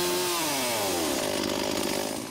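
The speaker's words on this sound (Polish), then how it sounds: "Piła łańcuchowa." A chainsaw, a model from the 1980s, cuts wood for sculpture, its engine roaring loud and close. The pitch sinks and strains as the chain bites into the timber, and no voices are heard.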